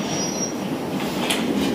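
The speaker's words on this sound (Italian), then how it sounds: "sta arrivando la metro" A London Underground metro train arrives at a station, its wheels squealing and rumbling steadily at moderate distance, with no one talking.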